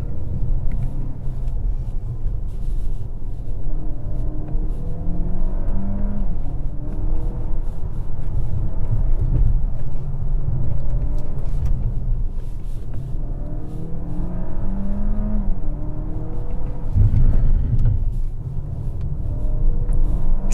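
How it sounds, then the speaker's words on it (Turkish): A DS 9 E-Tense 4x4 360hp car hums and rumbles steadily while driving, rising and falling slightly as it accelerates, heard from inside the vehicle. "Motor sesi heyecansız."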